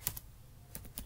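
A computer keyboard being typed on while entering Java code, a few quick light keystrokes close by with a soft pause in between, nothing else audible.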